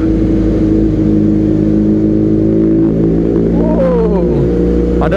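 A BMW R nineT motorcycle with an aftermarket exhaust, loud, close and steady, with a deep throbbing idle and a rising rev near the end.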